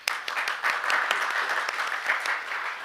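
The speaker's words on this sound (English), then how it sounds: "Please welcome him with a warm round of applause." A modest round of applause at an international forum on ship biofouling management, welcoming a presenter; scattered individual claps rise into a steady, moderately loud patter that holds, then eases slightly toward the end.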